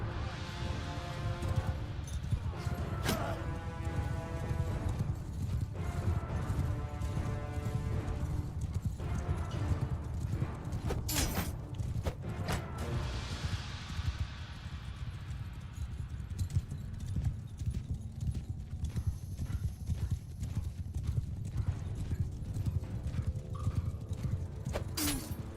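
In Mount and Blade 2: Bannerlord, many horses gallop in a dense, continuous clatter of hooves, with occasional whinnies and metallic battle clangs over a low rumbling mix.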